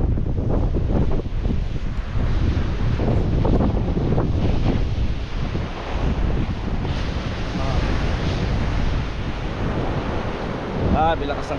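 Strong sea waves crash and roar continuously on a beach, mixed with heavy wind buffeting the microphone and occasional voices in the background.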